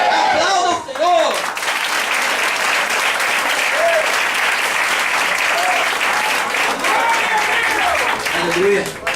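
Congregation at a worship service applauds loudly and continuously, a thick wash of clapping with voices calling out over it throughout.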